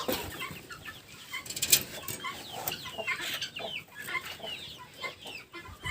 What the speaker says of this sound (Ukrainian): Подивимося, що тут кохінхіни роблять.